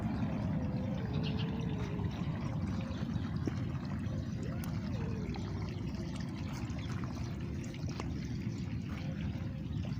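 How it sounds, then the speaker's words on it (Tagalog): Water pours steadily onto eggplant and squash plants in a home garden, a continuous close trickling and splashing that runs unbroken for the whole stretch without voices. "nilalagyan ko ng tubig"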